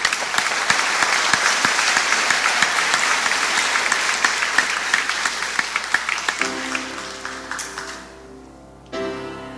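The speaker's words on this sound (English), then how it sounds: "Let's give them one more round of applause." A graduation ceremony audience applauds steadily for about eight seconds, with dense clapping that thins out before a short tonal sound near the end.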